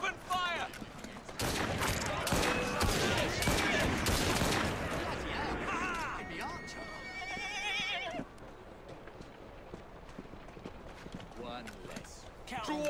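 A volley of rifle fire in Assassin's Creed Syndicate rattles out as a dense burst of several seconds, with voices shouting and horse sounds mixed in, then fades into a calmer street scene with more talking.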